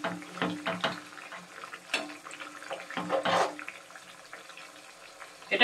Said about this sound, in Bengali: এই যে ঘি দেখো ফুটছে, তোমরা দেখো ঘি ফুটছে